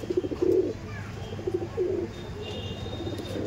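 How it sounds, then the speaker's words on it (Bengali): Pigeons in a loft coo in soft, repeated low bursts over a steady background hum, with a few faint chirps mixed in. "দেখুন কোয়ালিটি পায়রা"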